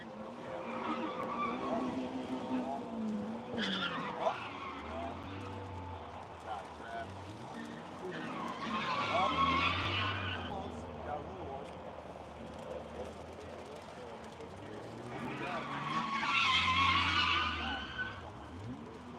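A track car skids and drifts on a dry skid pad, tires squealing in repeated swelling passes that grow louder and fade, with people talking throughout.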